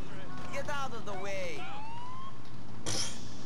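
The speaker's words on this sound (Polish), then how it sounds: "Ja nie miałem syreny wzywać, ale okej." Police car siren from Grand Theft Auto IV wails in rising and falling sweeps for about two seconds, loud and close, fading out before a brief burst of noise near the end.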